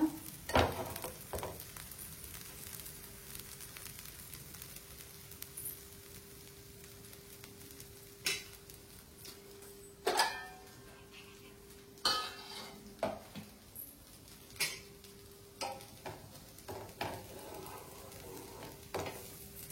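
Masala dosa roasts in oil on a pan with a faint, steady sizzle, broken by occasional sharp scrapes and clinks of a metal spatula against the pan.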